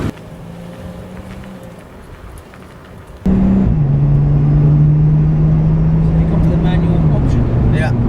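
A Lotus race car's engine suddenly roars in loud and close after a quieter stretch, then holds a steady droning note that dips and shifts in pitch as the car drives off.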